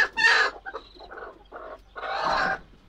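A free-range desi hen clucks near her eggs in a series of close, uneven clucks and short calls with brief pauses between them. A longer, louder burst of clucking closes the sequence.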